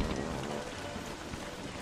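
Continuous rain patters across the world of Don't Starve: Reign of Giants, a dense, unbroken wash of falling drops at even moderate loudness, with no talking over it.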